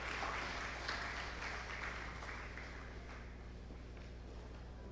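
Steady applause from an audience at a national diaspora day celebration, a continuous wash of many hands clapping at a fairly even level for the whole stretch, with no voices over it.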